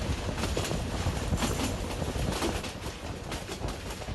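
Train from a Bangladeshi train video game rumbles past in a dense, steady wash of rolling noise with faint rhythmic clatter, close and fairly loud throughout with no talk.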